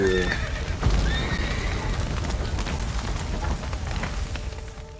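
Horses trapped in a burning stable in The Witcher 3 let out a sharp whinny over a dense roar of fire and crackling, with hooves and game sounds churning underneath throughout.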